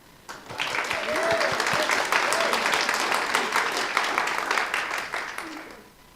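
A seated audience at a Sunday service claps warmly to welcome a speaker, a dense wash of applause that swells quickly, holds steady for several seconds and then tapers off.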